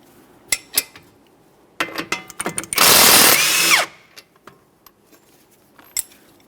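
A power tool spins off a strut mounting bolt with a 22mm socket on a 2011-2020 Toyota Sienna front suspension, one loud sustained whir preceded and followed by scattered metallic clinks and taps.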